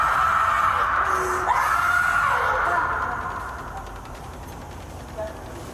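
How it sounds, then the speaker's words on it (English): A woman screams long and loud, close by, her shrill cries fading over several seconds against a noisy background. "Screaming isn't going to help you right now."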